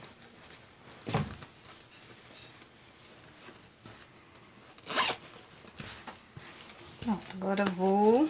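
A zipper being opened on a sewn fabric lab-coat holder while turning the piece right side out, with a few short rasping zips and fabric rustles mixed with someone talking nearby.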